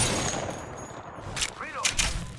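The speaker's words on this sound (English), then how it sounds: "Bots are shooting at me." Video game bots firing guns at the player, a quick scatter of sharp shots and bursts under steady in-game noise, with a short swooping effect midway.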